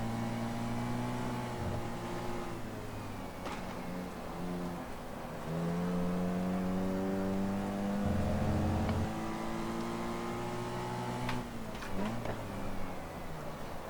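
A classic race car in the driving game GT Legends is driven with an H-pattern gearbox and heel-toe downshifts. The engine drones steadily, its pitch rising and falling through gear changes.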